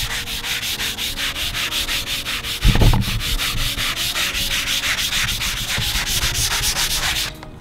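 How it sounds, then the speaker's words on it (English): Walnut wood is hand-sanded in quick, even back-and-forth strokes, a close, loud, rhythmic scratchy rub that continues steadily with a brief thump partway through and stops just before the end. "first I'm going to get this guy sanded down a little bit"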